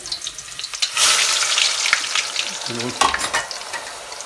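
Loud sizzling of potatoes frying in hot oil, a dense crackling hiss with a few clinks and stirring sounds, no talking.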